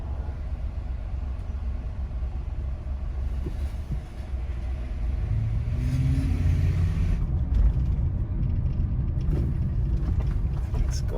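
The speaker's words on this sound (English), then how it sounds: "Boston has nasty traffic." Busy Boston city traffic makes a steady, loud low rumble of engines and passing vehicles throughout, with faint voices mixed in.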